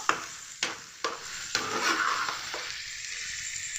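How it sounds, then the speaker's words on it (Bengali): Spices and tomato stirred and frying in a pan for a spicy sour chicken dish: a steady close sizzle with several sharp scraping stir strokes at regular intervals, no voices. "মশলাও দিয়ে দিই একটু টমেটোর সঙ্গে নাড়ানাড়ি করে নেব"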